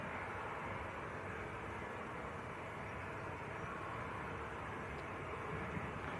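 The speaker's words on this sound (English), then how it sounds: "next departure, going out to Toulouse in France, this one. And not a Max for a change, just a good old 800 series 737." Steady broadband jet roar from a Boeing 737-800 departing Manchester Airport for Toulouse, continuous and fairly distant, holding an even level throughout with no talk over it.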